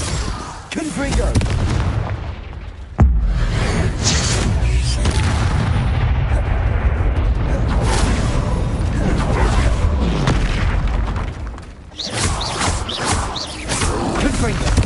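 Hogwarts Legacy duel with Confringo blasting spells, a dense barrage of booming explosions and whooshes over a loud continuous rumble, with a sharp burst near the start and shouted spell names among the din.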